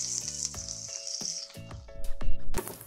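Chopped onions and green chillies dropped into hot oil sizzle loudly up close. The sharp hiss eases after a moment and gives way to intermittent stirring clatter and spattering.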